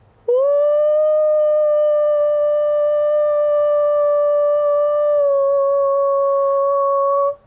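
A person imitates a beta wolf howl with one long, loud, steady sustained note, starting abruptly and holding an even pitch for about seven seconds before cutting off, with nothing else heard.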